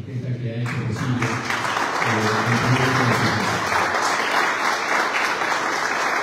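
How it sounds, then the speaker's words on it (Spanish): Loud, sustained audience applause fills a formal Peruvian executive conference hall, honouring a female architect, with a voice talking over the opening seconds before the clapping swells and holds steady. "Quisiera que me acompañe un fuerte aplauso a Karina Mara, la arquitecta que ha hecho po"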